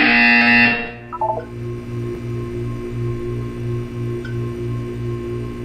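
A loud electronic buzzer in Portal 2 blares for about a second, then cuts off, leaving a low pulsing hum and faint tones behind.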